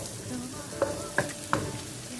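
Carrots fry in a pan for a creamy cheesy chicken penne, giving a soft, steady sizzle broken by three short scraping strokes of a stirring utensil, close by and without speech.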